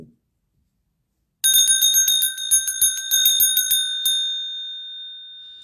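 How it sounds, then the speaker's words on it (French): Small bell shaken inside a handbag, ringing in a quick burst of bright metallic jingles for about two and a half seconds, then a single ring that fades out. It is close and loud, with no talking. "Tu vas voir comment je marche toujours avec ma cloche."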